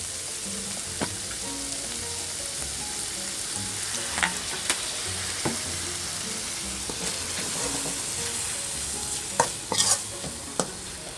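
Pickled bamboo shoots stir-fried in a pan, steady sizzling with scraping and clinking stirring strokes scattered throughout, close and continuous, a few sharper clatters near the end.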